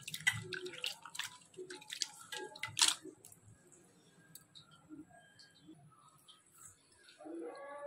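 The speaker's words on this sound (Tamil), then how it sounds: "கொஞ்சம் புளியை கரைச்சிப்போம்." Tamarind is squeezed and dissolved in water by hand, giving quiet wet squelches, drips and small splashes at close range in a mostly hushed kitchen.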